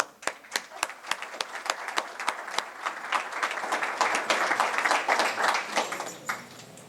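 Audience applause at a book presentation on dictatorships: a few sharp separate claps at first, then building into fuller, denser clapping from a moderately sized crowd, heard alone without talk.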